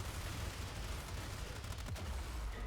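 Enemy gunfire in the game Warframe aimed at a companion: a dense, continuous rattle of rapid shots with a heavy low rumble, steady and loud throughout the short stretch, with no talking.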